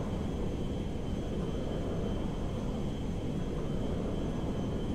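A steady, even engine drone from an airplane flying in Grand Theft Auto 5 fills the scene, a dense continuous rumble with no breaks and no voices.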